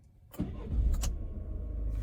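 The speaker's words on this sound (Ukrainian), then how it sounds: "І двигун заведено." A Toyota Proace van's engine starts after a few quick clicks, cranking and catching into a close, steady idle.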